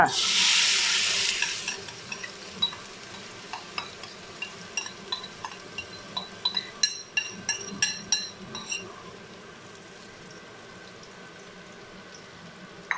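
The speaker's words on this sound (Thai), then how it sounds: "โอเค น้ำมันละร้อนแล้วค่ะใส่พริกลงไปเลยค่ะ" Chilies hitting hot oil in a wok for Thai beef stir-fry, a loud initial sizzle that settles into steady frying with repeated spatula scrapes and clicks.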